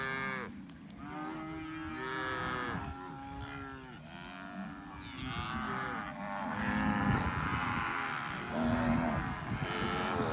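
Brahman cows on a South Texas ranch moo repeatedly, a herd of deep, drawn-out calls overlapping near and far with no talk.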